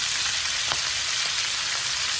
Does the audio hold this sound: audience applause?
no